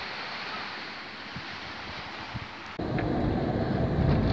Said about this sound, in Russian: И море. Прекрасное Черное море.